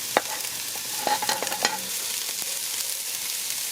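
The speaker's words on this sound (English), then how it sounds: "So once the oil is hot, go in with the onion. I'm going to add the celery, the chive and the bandana, as well as the hot pepper." Onion, celery, chive, bandania and hot pepper fry in hot oil for a Trinidadian chicken foot soup, giving a loud, steady sizzle with scattered clicks of stirring throughout.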